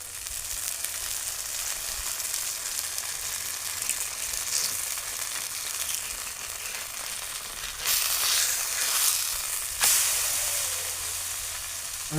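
Thalipeeth, a flat flatbread, frying in oil on a pan, giving a steady close sizzle that swells briefly when oil is poured around it and the flatbread is turned.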